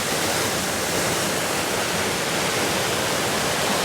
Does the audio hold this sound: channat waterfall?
yes